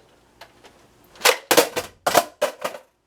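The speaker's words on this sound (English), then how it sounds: "Flipping the mag out." Sharp plastic clacks from a Nerf Halo MA40 blaster as its magazine is flipped out: about half a dozen close, loud snaps and rattles in quick succession, alone after a couple of faint light taps.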